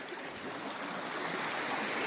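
A mountain stream in Serindere canyon, heard as a steady, close, broadband rush of flowing water with no voices.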